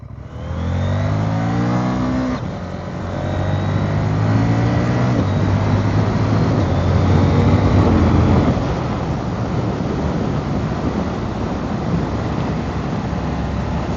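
A 2023 CFMoto 800NK motorcycle accelerating on a road, engine revving up through rising tones, a brief drop at a gear change, then climbing again under loud, steady wind rush.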